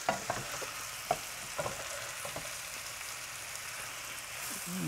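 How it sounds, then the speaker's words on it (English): Shrimp sizzle steadily in a hot pan, a close, continuous frying hiss broken by a few light clicks and taps as they settle, with no voices. "Now it's the time to add our shrimps."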